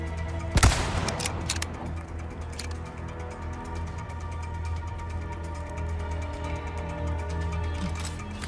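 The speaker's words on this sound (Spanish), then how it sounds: "Está bien chido cómo se escucha después del balazo" One sharp, loud gunshot in the video game Separate Ways, followed by several seconds of low, steady mechanical hum and faint rattling with no further shots.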